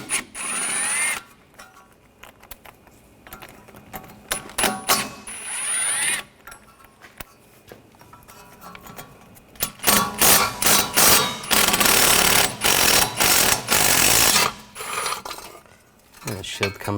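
A 10mm socket on a tool spins bolts out of the rear brake shield on a Buick Encore, giving bursts of close mechanical whirring and ratcheting, strongest and most continuous toward the end.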